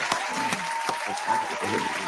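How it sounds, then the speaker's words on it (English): Applause from a large crowd of thousands in a packed building, steady clapping throughout with a few sharper claps, under a faint voice. "I think we deserve a round of applause."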